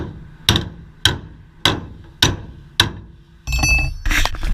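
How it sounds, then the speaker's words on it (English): Five evenly spaced, loud blows from a three-pound hammer ring sharply on metal, followed by a brief burst of scraping and clanking. "Use the 3-pound."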